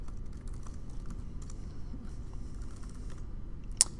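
Typing on a computer keyboard, a close, quiet run of quick irregular key clicks, with one sharper tap near the end.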